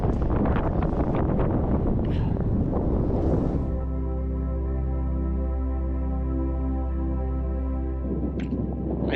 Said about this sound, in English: Wind's picking up a bit.